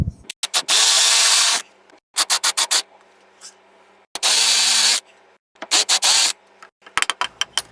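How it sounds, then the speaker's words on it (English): Hand drill fitted with a 5/8 inch Forstner bit boring half-inch-deep holes in wood, loud and close, in several bursts of steady whirring separated by quick trigger pulses and short pauses. "Now I'll take my hand drill and install a 5/8 inch Forstner bit, and I'm going to drill these holes a 1/2 inch deep."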